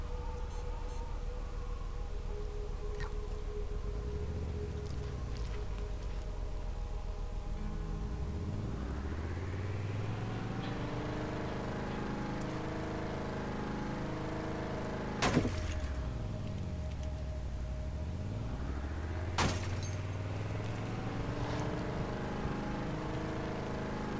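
A car is driven in the video game Borderlands, its engine note rising and falling repeatedly as it speeds up and slows, with a couple of sharp clanks partway through, over a faint steady background tone.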